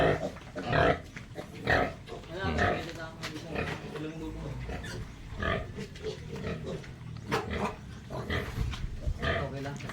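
Hungry pigs on a farm squeal and grunt loudly while waiting to be fed, repeated shrill cries rising and falling close by, mixed with a person talking.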